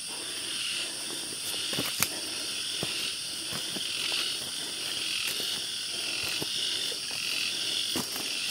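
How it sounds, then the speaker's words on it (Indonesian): Cicadas droning in a dense mountain forest on Gunung Kencana, a steady high-pitched buzzing chorus filling the background, with scattered faint clicks and footsteps nearby. "Suara Tonggeret."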